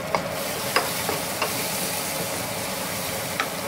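Onions sautéing in a pan with salt, stirred for a moist, steady sizzle broken by a few sharp scrapes of a spoon against the pan, close and alone with no voices.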